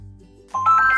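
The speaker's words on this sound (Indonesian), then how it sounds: "Burung puyuh." A quail calls in a short burst of bright, repeated tonal chirps that starts about halfway through, over a low steady hum.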